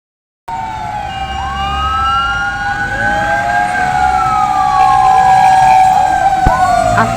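Wailing fire truck sirens rise and sweep as firefighters arrive one after another at a burning building in Zapote, Las Piñas, loud and close, with engine rumble beneath and faint voices.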